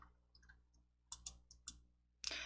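Mouse clicks on a shape in a PowerPoint slide, several faint, sharp clicks spaced unevenly in a quiet room, with no talking.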